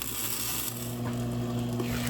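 Spinach sizzles in a hot pan on the stove, a continuous crackling hiss with faint stirring, heard alone at close range.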